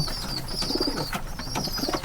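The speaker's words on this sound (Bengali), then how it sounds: "দেখেন এই কবুতরটা ডিম দেওয়ার জন্য" A pigeon coos close by in a loft with nesting baskets, giving soft, low, repeated throaty coos under a faint steady high tone, with no talk.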